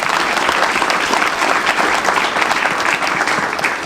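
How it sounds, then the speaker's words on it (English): Dense, steady audience applause at a school board meeting, honoring award recipients; many hands clapping continuously and loudly throughout with no pauses. "another round of applause for all of our recipients"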